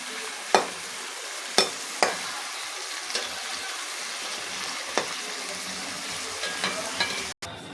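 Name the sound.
onions frying in a pan until light brown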